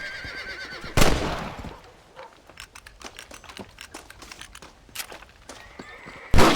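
A horse neighs in Red Dead Redemption, a sharp whinny standing out against rustling and hoof clatter, with more short bursts and a final loud snort near the end.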